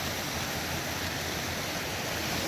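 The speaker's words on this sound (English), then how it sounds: "going up this creek towards Kern Peak. Very nice. Gotta watch my step. Nice waterfalls" Mountain creek tumbling over small waterfalls in riparian habitat on the way up toward Kern Peak, at about 10,700 feet: a steady, dense, close rushing roar of water with no break.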